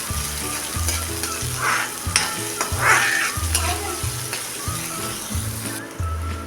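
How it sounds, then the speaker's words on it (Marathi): Chopped onion sautés in a pan over a medium flame until soft. A continuous near sizzle with stirring scrapes runs beneath steady backing music. "कांदा कांदा मऊसर होईपर्यंत आपण चांगला परतून घ्यायचा आहे"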